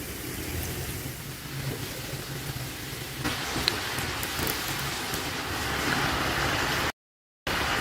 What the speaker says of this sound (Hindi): तो अब हम इसे गोल्डन फ्राई कर लेंगे अच्छी तरह से।